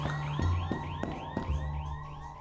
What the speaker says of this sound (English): Then, all of a sudden, multiple fire alarms.